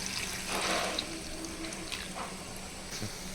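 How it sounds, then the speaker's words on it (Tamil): Water poured into a pan while making vada curry, a quiet continuous splashing and trickle with a few soft clinks. "அடுத்து தேவையான அளவு தண்ணி சேர்த்துப்போம்."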